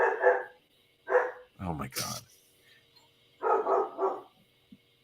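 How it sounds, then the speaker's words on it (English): A dog barks a few times in the distance, faint and brief, between bursts of people talking on a livestream call. "I'm hoping you can still hear me over the dog barking"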